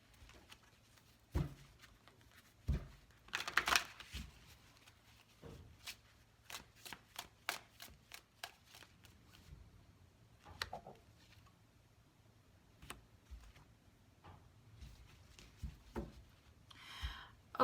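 Tarot cards riffle and flutter in short bursts, a quick burst of shuffling followed by scattered sharp flicks and taps, close and fairly quiet.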